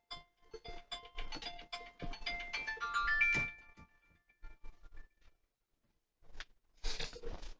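A mobile phone ringtone plays a short melody of bright, repeating tones and then cuts off. Soft bumps and handling noises follow in an otherwise quiet room.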